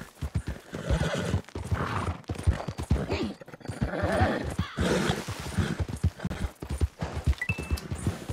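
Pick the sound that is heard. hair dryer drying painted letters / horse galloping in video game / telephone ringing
horse galloping in video game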